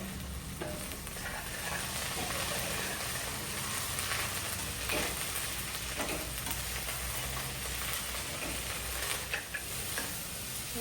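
Greens sizzle and fry steadily in a pan for country-style chicken biryani, a dense, even crackle with faint ticking stirs, heard close and without speech.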